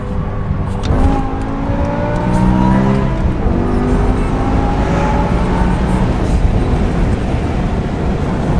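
BMW M6 wearing a new front lip, accelerating hard with its traction light blinking, engine note rising in stepped harmonics as the tires struggle for grip; loud and steady, heard from inside during a cruise, with no talk.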